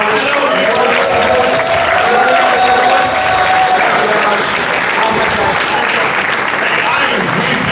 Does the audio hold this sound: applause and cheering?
yes